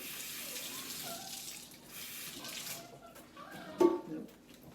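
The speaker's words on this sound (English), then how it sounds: "Just going to wet my hand again." Tap water runs and splashes while a hand is wetted during sourdough stretch-and-fold, a soft continuous trickle with a brief closer splash near the end.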